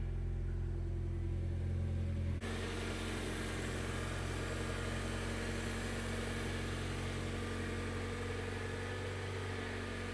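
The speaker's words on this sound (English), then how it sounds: "the engine is running." A car engine turns over and settles into a steady idle after a jump start from a TREKURE TK50 portable jump starter, a continuous low rumble running close and even for the rest of the clip.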